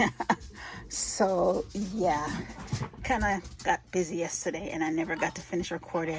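Indoor dog whimpering and yipping with occasional barks in the background while a person talks close to the microphone, the canine cries rising in short whiny bursts between and under the speech.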